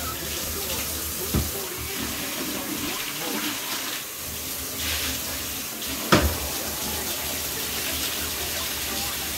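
Water runs steadily from a tap into a mop bucket, a continuous splashing rush with a couple of brief knocks.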